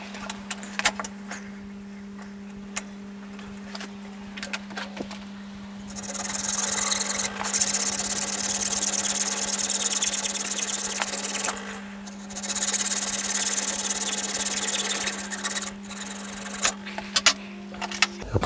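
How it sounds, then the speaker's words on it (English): A metal piece clamped in a vise being cut by hand, two long stretches of loud, harsh rasping strokes, framed by scattered metallic taps and clicks over a steady low hum. "I'll just cut along the top of the vise"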